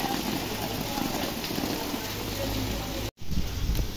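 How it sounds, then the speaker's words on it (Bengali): Steady rain falls outside with a dense, even hiss, briefly cut off near the end before resuming; a voice is faintly present. "অনেক বৃষ্টি হচ্ছে বাইরে"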